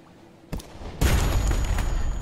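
Ship cannon fire from the naval game Sunless Sea: one soft thump, then a louder boom that swells into a sustained rumbling roar and lingers to the end.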